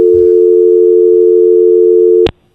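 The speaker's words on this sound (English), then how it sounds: "Is that a dial tone?" A steady, loud electronic telephone tone hums unbroken for over two seconds, then cuts off abruptly into near silence.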